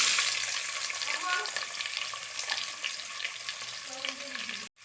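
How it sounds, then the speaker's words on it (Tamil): Mustard seeds spluttering in hot oil with chana dal and curry leaves, a close crackling sizzle with scattered pops and stirring scrapes, continuous until a sudden stop near the end. "கடுகு நல்லா பொரியறக்க ஆரம்பிச்சிருச்சு"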